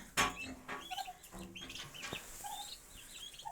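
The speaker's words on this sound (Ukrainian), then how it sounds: "Ось так так і наші птінчики ростуть." Young chicks and chickens on a farm clucking and chirping in a run of short calls, one loud call near the start followed by softer peeps, with no talk.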